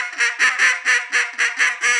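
A Cajun squeal blown on a hen duck call, seven whiny, nasal notes in a quick even rhythm, loud and close with no other sound.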